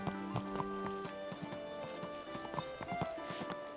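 Horse hooves clip-clop at a slow walk on city streets in the medieval game Kingdom Come set in Bohemia 1403, a steady uneven rhythm of close, clear hoof strikes with faint ambient tones behind.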